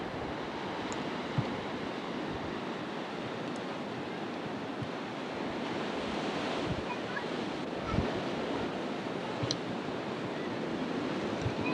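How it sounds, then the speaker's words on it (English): Waves roll in and break on a surfing beach, a dense, continuous roar of surf with gusts of wind noise on the microphone and a few sharper splashes. "These waves are starting to break right about where I am."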